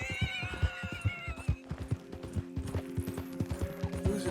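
A horse in Red Dead Redemption 2 gives a whinny over steady clip-clopping hooves, with low rumbling game ambience underneath and no voices.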